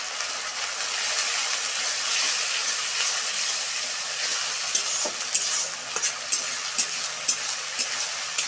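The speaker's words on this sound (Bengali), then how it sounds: "এখন আমি দিয়ে দিব পেস্ট করা পেঁয়াজ। হালকা হলুদ দিয়ে দেব।" Onion paste with turmeric fries in a pan, a loud steady sizzle close by, with a run of sharp clicks and scrapes from stirring toward the end.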